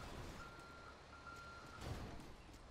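A steady, faint reversing beep from a vehicle in GTA V, a thin repeating tone over low engine rumble and ambient street noise at a distance.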